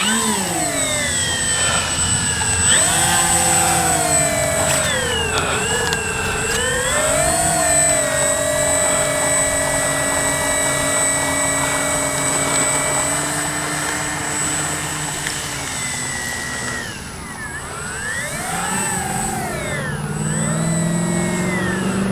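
An RC B-25J warbird scale model airplane flies by with its twin engines droning steadily and loudly, the pitch sweeping up and down as it banks and passes overhead, alone with no talk.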